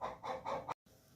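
A hen near a farmhouse kitchen clucks in three rhythmic bursts, close and moderately loud, before the sound cuts off abruptly, leaving faint background noise.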